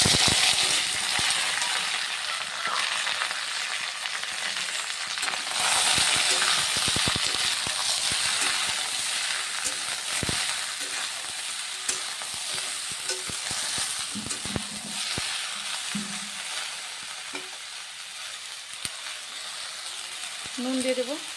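Cut, washed mixed vegetables hit a hot pan and fry with a steady loud sizzle, broken by scraping and clanking stirring strokes of a utensil against the pan throughout.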